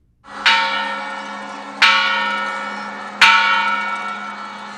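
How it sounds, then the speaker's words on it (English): Three loud strikes of a large bell at an even pace during a Mexican Independence Day ceremony, each ringing out with a long, slowly fading resonant hum before the next. "rings a big bell"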